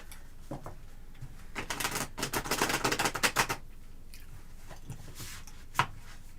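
Tarot cards are shuffled by hand in a series of crisp riffling bursts, loudest in a run through the middle, followed by a few scattered softer card flicks and taps, close and clear with no talking.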